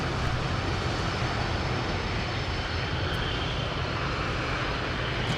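Airplane landing on runway 25 left at LAX, a loud, steady engine roar with heavy broadband rumble sustained throughout, no voices.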